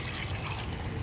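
Water pours steadily into a pot while rasam cooks, a continuous close splashing fill with no talk over it.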